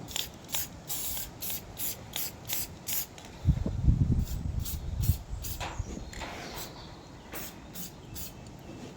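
Aerosol paint sprayed onto a washer on a Land Rover Defender TD5 130 Hicap axle build, short repeated hissing bursts with a lower rubbing clatter in the middle, close and fairly quiet, no talk.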